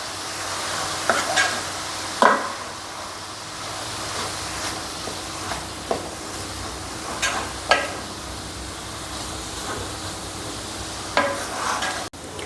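Beef cutlet filling of meat and sautéed onions stirred in a frying pan, a soft continuous sizzle broken by scattered scraping clicks of the spoon against the pan, close and moderately quiet.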